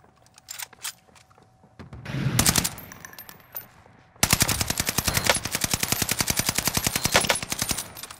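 Call of Duty: Modern Warfare gunfire: scattered single shots and a short burst at first, then a long rapid automatic-weapon stream of loud, close, evenly spaced cracks, with no voices.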